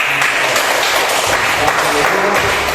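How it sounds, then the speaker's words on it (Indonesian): Classroom applause from students during a history lesson, a steady wash of clapping throughout, with a voice briefly audible underneath. "tepuk tangan buat"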